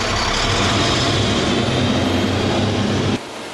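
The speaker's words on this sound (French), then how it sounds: "Puis le moteur redémarre sans utiliser de diesel." Hybrid garbage truck's diesel engine running with a loud, steady broadband rumble and roar, then dropping off abruptly near the end, with no talk over it.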